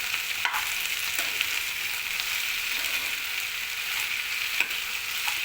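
Ivy gourd curry sizzles steadily in a hot pan as it is stirred, a continuous close frying hiss broken by occasional scrapes of the spoon, with no talking.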